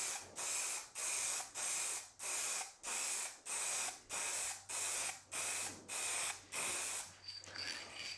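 Spray gun applying a second coat of melamine lacquer to a table, about a dozen evenly spaced hissing bursts of roughly half a second each, close and loud, with a softer sputtering trail at the end.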